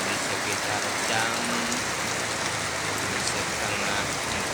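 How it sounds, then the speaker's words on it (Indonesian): Heavy afternoon rain pours steadily in front of a clothing shop, a dense, even hiss of drops striking the ground and surfaces, fairly close and unbroken throughout. "Hujan sangat lebat sekali pas sore hari"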